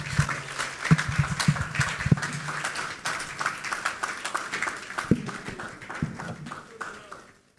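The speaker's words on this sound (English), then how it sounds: "A round of applause for the Minister." Applause for a Minister at the close of a speech at a Ghanaian central banking and digital finance summit, a steady mid-level patter of clapping with a few sharper claps and some voices underneath.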